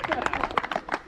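A small crowd at a bench-press championship claps for a birthday, a brief burst of scattered hand claps, close and fairly loud, lasting about a second.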